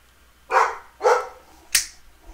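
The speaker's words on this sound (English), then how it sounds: "Here goes the dogs." Dogs bark twice in quick succession, loud and close, followed by a sharp snap-like sound.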